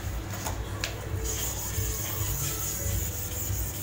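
Steady scratchy rubbing of sandpaper sanding paint off an LCD panel's polarizer, working back and forth across the hard surface, close and continuous at low volume.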